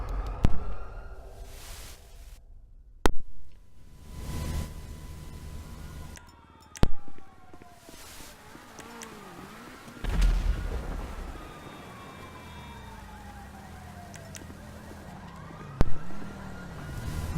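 Shooter video game sniper duel with sharp explosive blasts at intervals, some with rumbling tails, alongside falling whistling tones and intermittent loud bangs.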